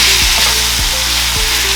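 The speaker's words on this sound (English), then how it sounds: "Where we get to add our tomato puree" Blended tomato puree hitting a hot pan for Kenyan masala chicken drumsticks, giving a loud, steady frying sizzle with a few soft thuds from the pan, no voices.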